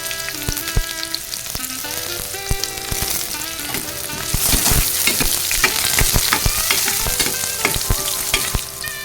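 Garlic sautéing in a pan until brown for sarciadong bangus, a loud crackling sizzle with repeated close clinks and scrapes of the spatula that grow busier and denser midway.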